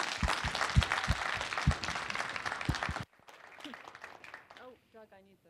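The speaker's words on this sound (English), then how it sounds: "Could everybody give a nice warm round of applause for the speakers?" An audience at a PyCon Python conference session claps for the speakers, a few seconds of steady applause that cuts off abruptly, followed by a quieter stretch with a voice speaking.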